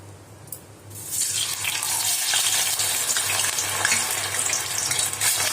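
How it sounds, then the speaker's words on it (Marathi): Raw banana chips drop into hot oil on a gas flame and erupt into a loud, steady frying crackle after a quiet second, bubbling continuously up close. "तर आता आपण थोडे थोडे करून चिप्स सोडून घेऊया।"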